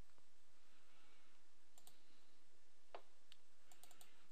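A computer keyboard typed on at a PC while entering a command in Minecraft: sparse, faint clicks and taps scattered across a quiet background with no voices.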